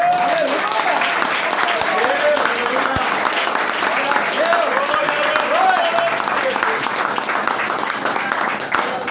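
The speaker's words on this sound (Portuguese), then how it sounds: "Dá para aplaudir o Senhor?" A church congregation applauds for the Lord during a sermon, a loud, dense and steady wash of clapping that lasts throughout while a voice carries over it.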